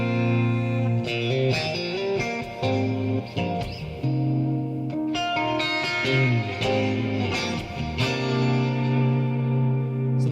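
Electric guitar through a PolyChrome DSP Lumos modeler on a clean preset, ringing chords and single notes soaked in echo, chorus and reverb, played alone with sustained, shimmering tails.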